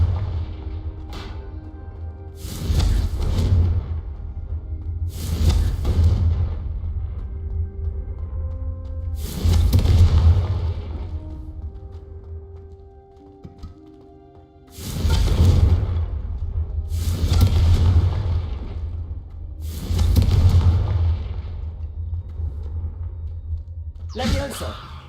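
Fiery Confringo spell blasts in the video game Hogwarts Legacy, about seven separate whooshing explosions with deep rumbling booms arriving every few seconds over a constant low hum, with a voice heard among them.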